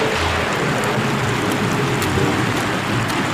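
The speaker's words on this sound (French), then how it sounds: "Couvre-toi, Martin, il pleut à verse." Heavy rain pours down in a loud, dense, unbroken hiss that fills the whole stretch with no voices over it.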